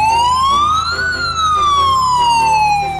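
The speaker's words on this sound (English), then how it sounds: "Medium duty ambulance." A medium duty ambulance siren wails loud and close, a single slow tone sweeping up then gliding back down over about three seconds, with faint engine rumble beneath.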